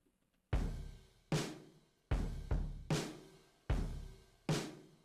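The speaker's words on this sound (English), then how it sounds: "I pulled out the stock Logic Roots kit, which sounds like this." Stock Logic Roots drum kit processed with effects plays a slow, sparse pattern: six booming kick-and-snare hits with long reverberant tails. The pattern is loud and close, with no voices.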